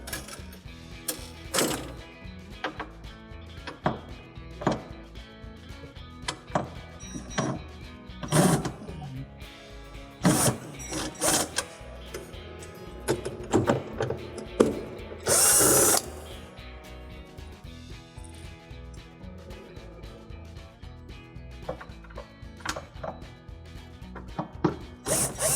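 A power driver whirs in short, irregular bursts, each followed by ratcheting clicks and handling noise, as screws are backed out of the icemaker of a Whirlpool refrigerator up close.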